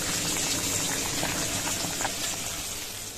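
Bhola fish curry in an oil-based spicy sauce simmers in a pan with a steady, close bubbling and sizzling hiss that stays fairly even throughout, with no talking.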